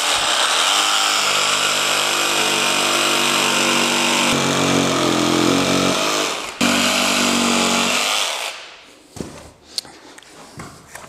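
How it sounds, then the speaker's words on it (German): A jigsaw cutting dry screed board, heard as a loud, continuous motorized rasp that runs for about eight seconds and then stops, followed by a few clattering knocks. "Also Stichsäge angesetzt"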